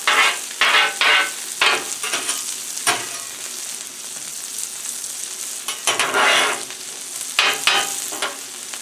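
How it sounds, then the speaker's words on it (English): Onions frying on a Blackstone flat-top griddle beside smash burgers, a steady close sizzle broken by several bursts of scraping and stirring with a spatula, with no voices. "Put our onions down here in the corner."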